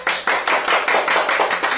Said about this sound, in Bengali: একটা সবাই হাততালি।